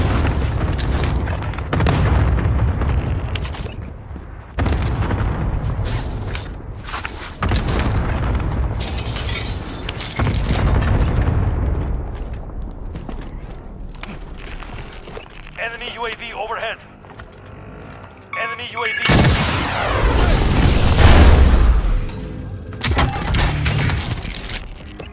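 Cluster strike explosions in Call of Duty Warzone, a series of heavy booms and rumbling blasts rolling over several seconds, loud and close, with game radio chatter and a voice talking between them.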